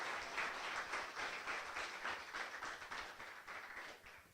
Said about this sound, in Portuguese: Dá uma salva de palmas bem forte para o Senhor